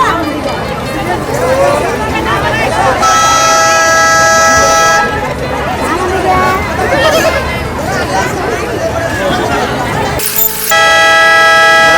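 A toy ride train pulls into the station at Garden Park in Rajabari, Keraniganj, sounding two loud, sustained horn blasts over a busy crowd of chattering voices and general holiday hubbub.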